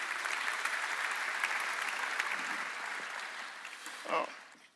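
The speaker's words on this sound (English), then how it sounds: "A round of applause, ladies and gentlemen." Steady applause from an audience at a FIFA football conference, sustained clapping that tapers off near the end with a brief louder burst.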